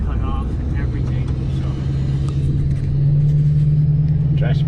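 A car on a test drive with its truck bed cut off, giving a steady, loud low engine drone and road rumble that swells slightly partway through.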